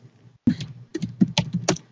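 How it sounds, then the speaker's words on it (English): Keys on a computer keyboard clatter in a short burst of quick, irregular taps after a brief quiet start, close and fairly loud with no voices. "Oh, someone's typing."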